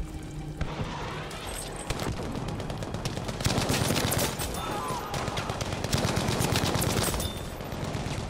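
Battlefield V gunfire from a Bren light machine gun on PS4, dense bursts of automatic shots and explosions rattling steadily through the whole stretch, loud and close, with muffled game noise underneath.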